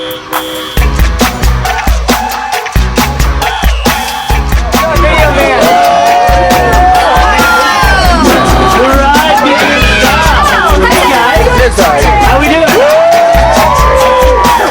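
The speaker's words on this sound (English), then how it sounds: "Wow, this is an enthusiastic crowd, Jackie" A tour bus packed with excited passengers erupts in loud whoops, shouts and cheering, the voices overlapping in a dense, close-up babble over a low engine rumble, with one person briefly speaking.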